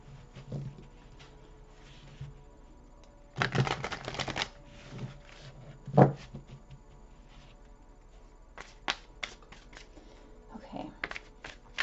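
Tarot cards shuffled by hand in several bursts of riffling and flicking, close and clear between quieter pauses, with faint speech elsewhere.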